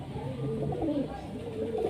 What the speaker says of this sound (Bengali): খাবার দেওয়া হচ্ছে, এই খাচ্ছে।